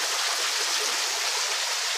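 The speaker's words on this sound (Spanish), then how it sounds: "por donde desciende el agua y produce este hermoso arroyo" Water runs down a large mineral rock formation inside a volcanic crater, a steady, loud, close rushing hiss that stays constant throughout without any voices.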